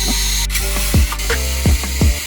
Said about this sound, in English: Now let's remove the screws that are holding the metal covers.